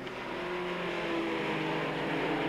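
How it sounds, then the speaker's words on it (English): A TVR Tuscan race car from the 1999 Tuscan Challenge series runs on a circuit, its engine holding a steady loud drone with slowly rising pitch throughout. "Let's have a look at Martin Short's car through here."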